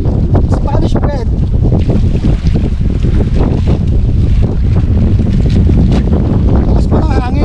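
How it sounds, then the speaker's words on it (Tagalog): Strong wind on a fishing trip in the Philippines buffets the microphone in a steady, loud roar, with a voice talking intermittently over it. "Lakas pa ng hangin."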